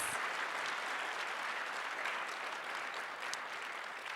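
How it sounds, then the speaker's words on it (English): Sustained audience applause fills a React developer conference hall after a set of lightning talks, a dense, steady wash of clapping at moderate distance with no voices over it. "You got to really like applause and cheer and jeer for these folks backstage."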